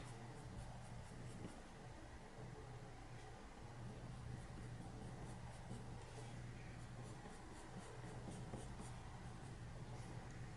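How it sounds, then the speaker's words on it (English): Prismacolor colored pencil shading on paper, a steady, soft, close scratching of lead strokes that runs continuously without pause, with no talk over it. "Make sure that you have a sharp lead on your pencil."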